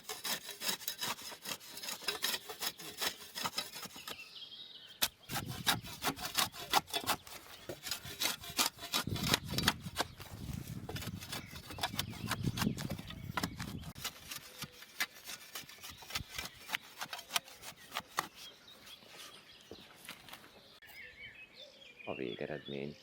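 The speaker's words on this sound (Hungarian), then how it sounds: "Belső él utolsó simításait ismételten két oldalról végezzük, apróbb és nagyobb csiszoló mozdulatokkal haladva" The inner edge of a wall being sanded and smoothed with repeated short and long scraping strokes, a dry rhythmic rasping that is close and continuous, with faint birdsong in the background.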